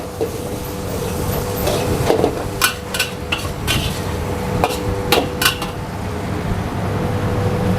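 A utensil stirs butter and half-fried shrimp in a metal pan, giving repeated scraping and clinking strikes at an irregular rhythm over a steady background hum.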